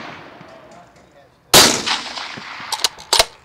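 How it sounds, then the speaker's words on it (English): A single sharp rifle shot at an outdoor shooting range rings out after a quiet stretch with a little background noise, trailed by a few quieter clanks and knocks. "We'll shoot one more and see how it goes."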